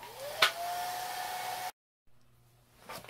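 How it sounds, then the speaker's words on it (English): A hair dryer blows a steady close whoosh over a watercolor painting, stops abruptly, then restarts softly and swells again near the end. "let me hit this with the hairdryer real quick"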